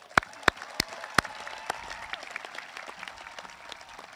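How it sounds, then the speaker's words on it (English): At a high school graduation, a few loud, sharp claps ring out near the start, then scattered, softer clapping spreads through the crowd of graduates and stays fairly thin. "Let's give ourselves a round of applause"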